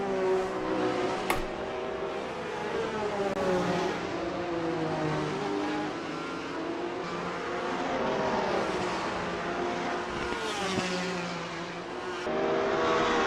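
Onboard sound of an Alfa Romeo Formula Alfa race car at Kyalami: a steady, loud engine whine rising and falling in pitch through repeated gear changes and throttle shifts, with no talking.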